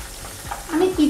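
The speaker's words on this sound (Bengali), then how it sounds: "এইভাবে আমি বাকি চিকেনগুলো ফ্রাই করে নেব" Chicken pieces frying in hot oil for restaurant-style crispy chicken, a brief close sizzle with stirring or lifting sounds, a soft voice faintly underneath.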